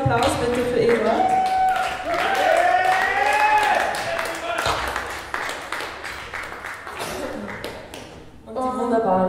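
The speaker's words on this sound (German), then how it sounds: "Großen Applaus bitte für Eduard." Live concert audience applauding at a 2017 queerograd show, a steady wash of clapping running for several seconds and tangled with sung and spoken voices and tonal music that rise and fall above it.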